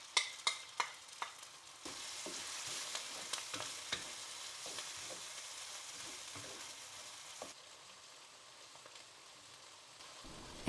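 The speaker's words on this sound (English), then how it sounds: "add the curry paste and keep toasting until the oil is separated" Curry paste sizzles and fries in hot oil with curry leaves and lemongrass for Malaysian chicken curry, crackling steadily while a utensil scrapes and stirs the pan in a series of sharp knocks, close and moderately quiet.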